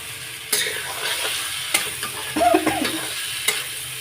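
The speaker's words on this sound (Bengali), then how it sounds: "আলু দিয়ে মশলাটা কষিয়ে নিচ্ছি বন্ধুরা" Spice paste and potatoes frying in a pan while being stirred, a steady close sizzle with a few sharp scrapes and clinks of the spoon against the pan.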